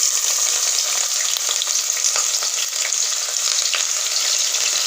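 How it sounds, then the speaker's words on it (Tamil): Onions frying in hot oil and ghee for mutton biryani, a loud, dense and continuous sizzle with small crackles, close and steady throughout. "வெங்காயம் நல்லா பொரிஞ்சு வரணுங்க."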